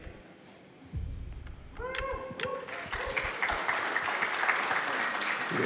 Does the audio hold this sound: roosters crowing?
no